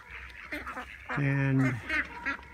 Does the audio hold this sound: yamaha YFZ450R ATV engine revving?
no